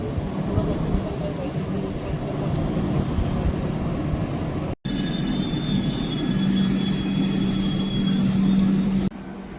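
A Jodhpur superfast express train runs with a continuous rumbling roll and wheel squeal, recorded near the carriage, a hard cut midway and a steady tonal whine in the second half.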